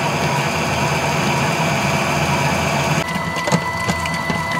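An electric mixer beats cream into butter at a lowered speed, a loud steady whirring motor drone with a rattling, churning texture that shifts in tone partway through.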